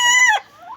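A farm chicken gives a short, close cluck that slides downward, then a softer rising note follows.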